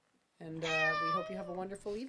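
A kitten lets out a drawn-out, clear meow with rising and falling pitch, close to the microphone, followed by a shorter second call while a person speaks over the sounds.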